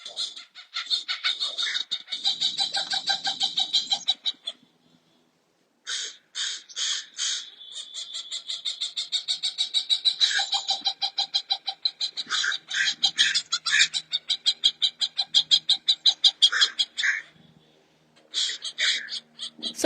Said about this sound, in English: if you want to hear the hawk and the crows